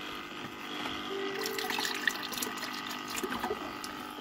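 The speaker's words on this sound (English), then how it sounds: "make sure the water is flowing" Water runs through the cooling system of a K40 laser cutter, a faint steady trickle with small drips and a soft pump hum, no voices.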